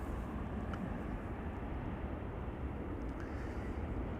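A KLM wide-body airliner taxies to the gate at Amsterdam Schiphol, a steady low engine rumble and roar that holds constant throughout at moderate distance, with no voices.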